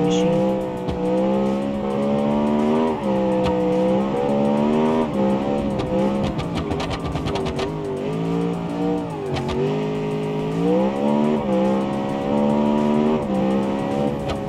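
Video-game race car with a sequential gearbox and nitrous boost, its engine roaring steadily at high revs with rising and falling pitch through gear shifts, loud and continuous for the whole stretch with no talk.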